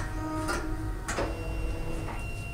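A Fargo DTC4000 ID card printer runs its cleaning cycle with a steady mechanical hum, broken by a few soft clicks and whirring pulses. The sound is close and carries no talk.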